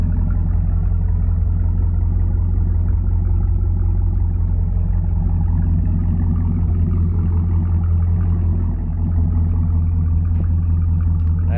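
Loud, steady low rumble of an idling Camaro V8 breathing through a Flowmaster exhaust, close and continuous for the whole stretch, with a faint voice under it.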